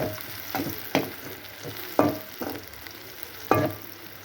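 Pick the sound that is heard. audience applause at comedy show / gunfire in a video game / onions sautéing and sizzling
onions sautéing and sizzling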